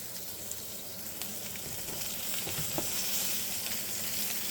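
Steak frying in a pan, a steady crackling sizzle throughout with occasional sharper pops, moderately loud and close, with no talking.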